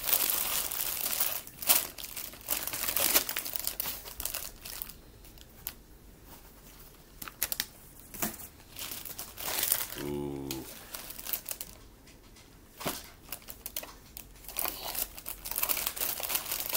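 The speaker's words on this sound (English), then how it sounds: "So I got a cartridge inside a bigger box. Plastic wrapped in plastic." A plastic-wrapped video game box is unwrapped, giving close, intermittent crinkling and crackling of plastic in irregular bursts, with a short squeaky tearing sound near the middle and quiet pauses between handling.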